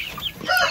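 Native chickens in a backyard brooder house, short clucks and chirps overlapping in a brief, moderately loud burst nearby.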